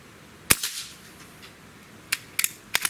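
Sharp single shots from an AEA SF select-fire air rifle, one distinct crack followed after a pause by a few more quick reports, fairly near and standing alone without talk.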